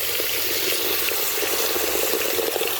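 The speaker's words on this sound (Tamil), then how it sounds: "தேவையான அளவு தண்ணி ஊற்றிடலாண்ணா" Water poured into a pot of chicken and mutton meatball gravy as it cooks, a steady rushing splash with hissing sizzle beneath, continuous and close, no talking.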